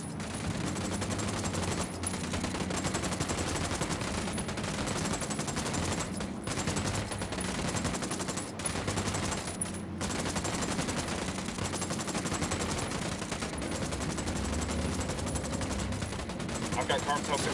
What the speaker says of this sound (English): I'm opening fire on these heads.